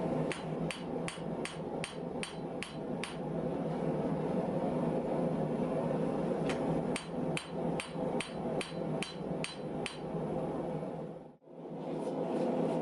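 Rapid, evenly spaced hammer blows ring out while forging a steel billet containing 15N20, against a loud roaring background, a run of strikes, a pause, then another steady series of sharp metallic hits.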